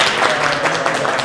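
A studio audience claps for a guest on a Korean real-estate talk show, a brief, dense patter of many hands at moderate volume with a faint voice underneath.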